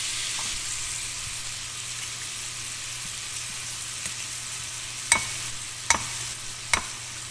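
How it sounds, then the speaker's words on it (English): Ground beef sausage frying in a pan gives a steady, even sizzle throughout, with a few sharp clicks or taps near the end, close by and without speech. "So now we're just gonna cook our ground beef, aka sausage."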